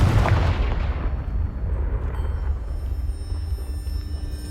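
A Confringo blasting spell explodes in Hogwarts Legacy, a loud booming burst at the start that rolls into a long, low rumbling decay with scattered debris settling over the following seconds.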